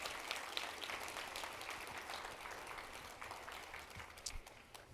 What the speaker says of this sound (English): How about another round of applause for Director Chopra?